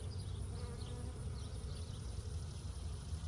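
A steady, dense buzzing of many bees, continuous and fairly loud, like a swarm close by around an opened hive during a varroa mite check.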